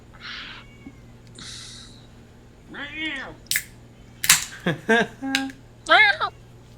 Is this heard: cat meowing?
yes